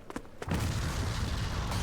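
An explosion in an anime episode hits with a sudden heavy boom after a few short sharp cracks, then rolls on as a sustained loud rumble to the end.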